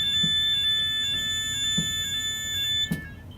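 A fire detection and extinguishing system alarm sounds during a training session, a steady high electronic tone holding alone with a few soft knocks and clicks around it.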